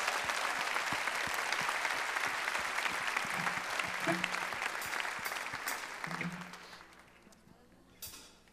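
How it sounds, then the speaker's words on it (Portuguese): A church congregation at an evening Baptist service claps in a strong, sustained round of applause with scattered voices mixed in, gradually tapering off toward the end. "Se você crê assim, dê um forte aplauso ao Senhor"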